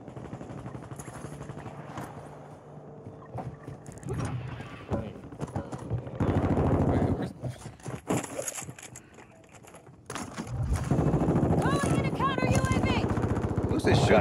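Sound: gunfire in the video game Warzone 2

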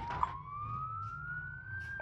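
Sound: police siren chasing player in BeamNG Drive video game

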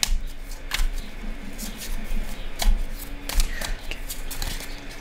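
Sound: shuffling tarot cards

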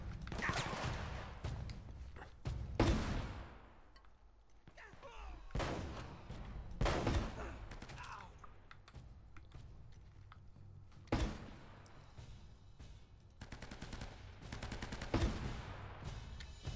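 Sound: gunfire in video game Uncharted: Drake's Fortune

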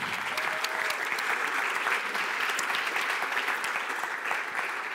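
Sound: audience applause

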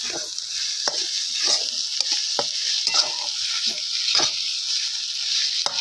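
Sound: stirring onion and egg bhurji frying in pan

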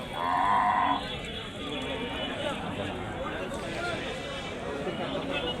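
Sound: bulls and cattle at a cattle market

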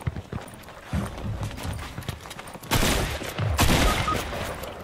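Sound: gunfire in the video game Fortnite Reload

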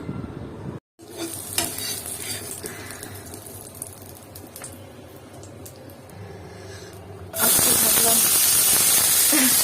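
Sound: chopped onion and tomato frying in oil

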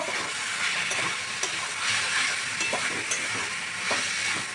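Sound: mutton pieces and spices being fried in a pan

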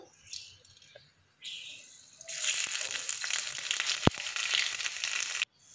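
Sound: dried chillies and panch phoron frying in oil

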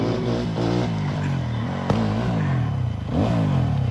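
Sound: new motorbike revving and riding

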